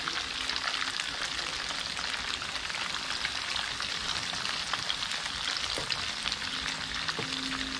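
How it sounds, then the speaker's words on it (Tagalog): Garlic sautés in a hot pan with a steady, bright sizzle and crackle that runs the whole time, close by and even in loudness, with a faint clink of stirring near the end. "Bango talaga ng bawang. Ayan, gisahin lang natin."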